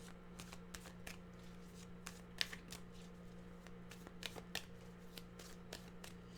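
A deck of tarot cards is shuffled close by, giving a soft, quick series of riffling flutters and light slaps over a faint steady hum, with no talking.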